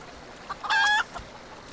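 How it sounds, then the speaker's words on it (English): A chicken clucks once in the Final Fantasy 14 video game, a short, clear burst of several rapid bright notes in a brief call, standing alone over quiet ambient background. "Where am I hearing a chicken?"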